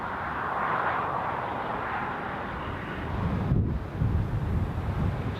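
An aircraft landing in strong wind at Newcastle International Airport, a distant jet-engine rumble buried in heavy, blustery wind noise across the microphone, with a brief gust break midway.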